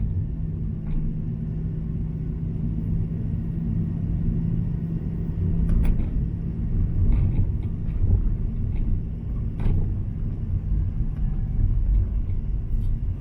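A car runs in third gear at about 30 km/h and 1,500 rpm along a forest road, a steady low engine rumble with faint bumps and creaks from the uneven track.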